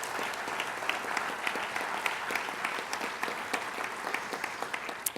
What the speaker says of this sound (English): please join me giving a round of applause for our amazing CIA team that pulls this all off